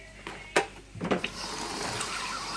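Water from a kitchen tap runs over noodles being rinsed, a steady broadband hiss after a few clattering knocks near the start, close and fairly loud, with no talking.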